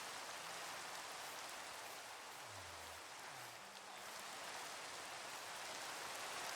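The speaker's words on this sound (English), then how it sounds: "Turn the music up because the rain's so loud." Rain falling in Minecraft: a loud, steady wash of dense rain hiss continues throughout, with a couple of soft low game tones briefly underneath.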